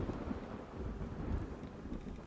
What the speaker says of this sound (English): And there is the occasional sound of thunder